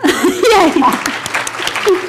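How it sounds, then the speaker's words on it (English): A small class claps briefly in a room during a Zoom teaching session, a short light patter of a few hands mixed with cheerful voices and a little laughter, fading quickly. "first let's clap"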